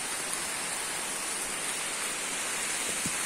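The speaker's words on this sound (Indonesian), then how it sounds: "Hujan guys, hujan, hujan." Steady rain falling at a construction project site, a continuous soft hiss with no clear breaks, fairly faint and without voices.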